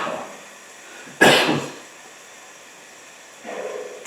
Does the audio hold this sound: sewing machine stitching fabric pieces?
no